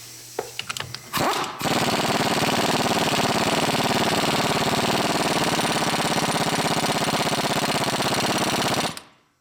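An impact wrench hammers a pinion nut tight on a Jeep Gladiator axle during a regear, a loud, rapid, continuous rattling burst lasting several seconds after a few short clicks and taps.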